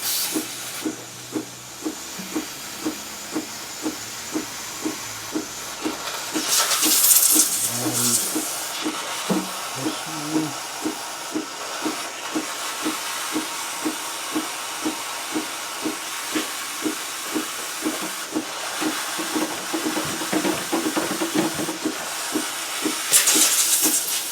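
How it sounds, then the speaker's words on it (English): A guitar-repair steamer blows a steady, loud hiss of pure steam into the joint of a Larrivée or Gurian acoustic guitar to loosen its neck, with a rapid regular pulsing throughout and a couple of brief sputtering surges. "Yeah, okay, we've got pure steam now."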